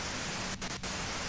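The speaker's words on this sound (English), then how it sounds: "you can do it through the white noise" Radio static hiss from Disco Elysium, a dense steady wash of white noise with two brief dips in the middle.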